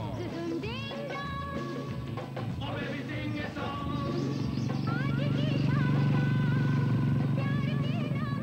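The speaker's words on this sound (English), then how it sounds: "I find myself making the next stage of the journey on the back of Babaji's motorbike" A motorbike carrying a rider and a pillion passenger runs steadily on a road in India, its engine hum continuous throughout amid street clatter and background voices.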